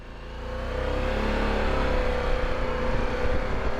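A 2022 Harley-Davidson Pan America 1250 Special motorcycle pulls away on a test ride, its engine note rising steadily from idle into a loud, sustained drone with rumbling low end and wind noise, no talking.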